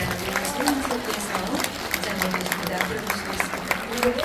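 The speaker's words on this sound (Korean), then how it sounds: "여러분 박수 한번 부탁드립니다" Guests entering the main auditorium of Halla Art Hall for the Hye Eun-i song festival draw soft, continuous applause from a crowd, faint and distant beneath an announcer's voice and murmuring.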